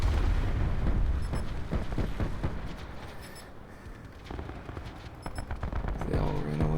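Gunfire echoes across a video game map, dense overlapping shots and booms in rapid bursts, loud and continuous with a few distinct sharp cracks, while a voice talks faintly underneath.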